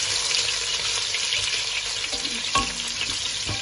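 Five onions frying in a pan of oil for a beef tripe dish, with bay leaves and garlic, a steady close sizzle with a brief stir or clatter near the end.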